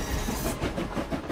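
A train rolling along in the trailer for the video game Last Train Home, a loud, close rumble with rhythmic clickety-clack pulses over the rails.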